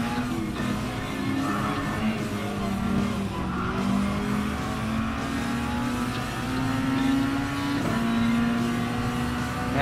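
The Red Bull X2014 Junior race car in Gran Turismo Sport drones continuously at high revs, with the pitch rising and dipping through gear changes and tires squealing through corners, loud and steady throughout.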